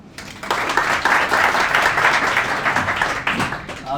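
Audience applause for a poet at an evening poetry gathering, a full steady burst of many hands clapping that swells after a soft start and carries on evenly for several seconds, close and loud with faint voices mixed in.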